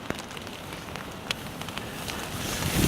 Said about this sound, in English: The wind just picked up like crazy.